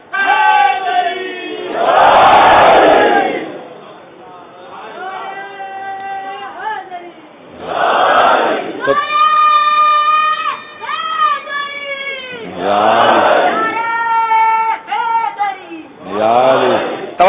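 Crowd at a religious sermon raising a shouted chant in repeated bursts, loud massed voices that swell and break off between stretches of a single voice calling out, the pattern returning several times.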